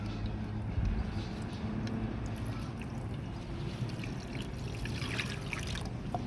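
Water splashing and trickling over new Jamaican $1,000 and $500 bank notes, a continuous wet spatter with some dribbling at close range.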